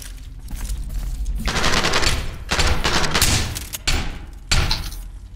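Rapid gunfire bursts from the SCP: Pandemic video game, loud and dense, in several sustained volleys separated by brief pauses, with no talking.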